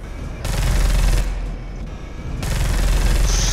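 Heavy cannon fire in Space Hulk Deathwing forms a dense, continuous roar of rapid shots, cutting out briefly midway before resuming just as loud.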